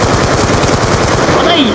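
Rapid automatic gunfire in the Roblox game Brookhaven, a dense continuous burst of shots filling the whole moment, loud and close with game noise behind.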